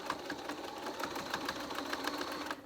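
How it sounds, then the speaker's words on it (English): A sewing machine stitches a cloth face mask along its pleats, running at a slow, even pace with a rapid rhythmic clatter of the needle throughout. "We're sewing towards the pleats, towards the folds,"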